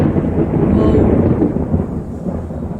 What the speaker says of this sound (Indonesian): suara petir